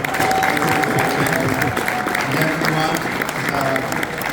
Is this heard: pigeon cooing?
no